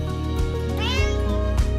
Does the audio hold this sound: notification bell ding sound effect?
no